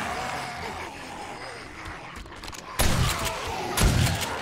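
Shotgun blasts in the zombie survival game 7 Days to Die during a max-size horde night, two sharp, loud broadband bursts about a second apart rising out of a busy, rumbling background.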